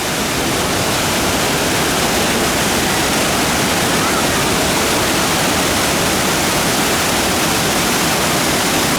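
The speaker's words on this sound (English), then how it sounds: "How long do you think you could sit here and chill in front of these waterfalls?" A constant, loud roar of rushing water from a waterfall at Disney California Adventure fills the scene, steady and unbroken throughout.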